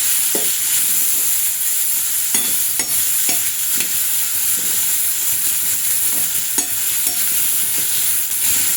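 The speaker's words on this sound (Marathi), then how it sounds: "आपलं तेल तापलं आहे आता आपल्याला या ज्या टोमॅटोच्या फोडी आहेत ह्या ह्यामध्ये घालायच्या आहेत आपल्याला या चांगल्या अशा परतवायच्या आहे" Raw green tomato pieces fry in hot oil on an iron griddle, with a continuous sizzle and hiss broken by repeated sharp scrapes and clicks as they are stirred, close and steady throughout.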